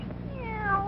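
A black cat in a classic Western film gives a single clear, rising-then-falling meow, close and distinct over a quiet background.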